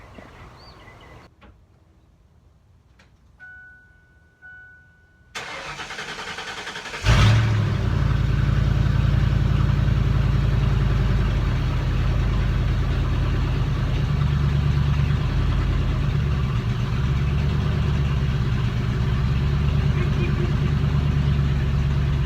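A car engine with its exhaust cut off cranks and catches, then settles into a loud, steady, rumbling idle that carries on without a break.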